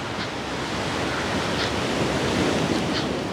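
Beach waves at Agincourt near Cairns wash in as a steady, broad rushing roar with faint wind buffeting the microphone, continuous and moderately loud with no voices.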